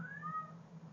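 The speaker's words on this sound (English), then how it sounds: "Sorry if you can hear my cat in the background." A single drawn-out cat meow, faint and somewhat distant, over a low background hum.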